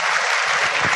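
A short, dense burst of audience applause from a seminar crowd, steady clapping at full loudness with no talk over it.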